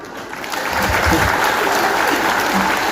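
Sustained applause from a large crowd at a political gathering in Kiharu, Kenya, swelling after a moment into steady, dense clapping that continues throughout.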